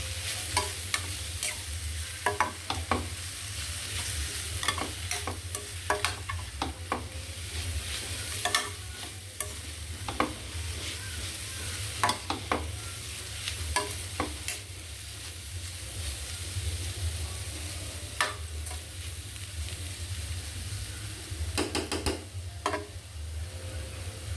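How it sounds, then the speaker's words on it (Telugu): A beetroot, carrot and rice mixture with salt and turmeric is stirred in a pan, a steady sizzle running throughout while a spoon scrapes and taps the pan in irregular clicks, close and fairly loud, with no voices. "కొంచెం పసుపు వేసుకొని బాగా కలపాలి"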